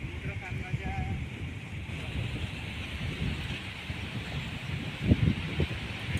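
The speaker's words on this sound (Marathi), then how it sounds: "हवेचा आवाज पाय." Strong sea wind gusting at the shore, a continuous roaring rush of wind and microphone buffeting with surf-like noise beneath, swelling louder near the end, with a voice briefly heard.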